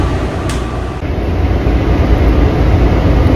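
Interior rumble of a Washington DC metro train wagon, a steady loud low roar that swells slightly after the first second, with a faint high whine running above it and no talk.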